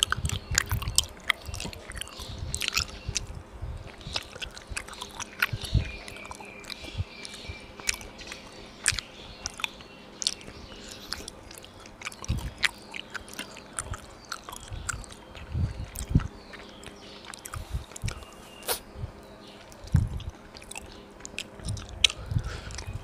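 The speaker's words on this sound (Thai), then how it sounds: "เดี๋ยวลองกินให้ดูนะครับนี่มันจะเป็นแบบเยลลี่อ่ะทุกคนเยลลี่ยืดๆ" Close, intimate chewing of stretchy yogurt jelly, with soft squishy bites and wet mouth sounds repeating steadily and quietly throughout.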